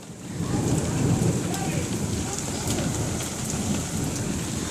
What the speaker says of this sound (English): I don't know if it's hailing or it's raining.